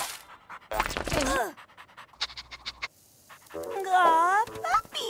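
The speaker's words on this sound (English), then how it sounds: "Ooh, Gwen, pick up that disgusting dog." A cartoon dog in an animated Polly Pocket episode pants in quick, breathy bursts, alternating with character voices talking.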